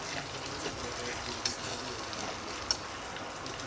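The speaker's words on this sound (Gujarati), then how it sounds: "હવે મરચાં નાખ્યા છે, થોડી વાર ચડવા દઈશું" Chillies frying in a pan for a turmeric vegetable dish in a village kitchen: a steady, soft sizzle throughout with a few small pops and a clatter at the end, no talking.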